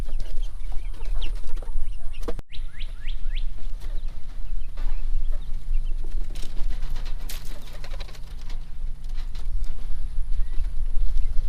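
Young chicks peep in small high chirps among farm poultry, with a louder bird call and scattered clucks and shuffling around them, steady background hum underneath.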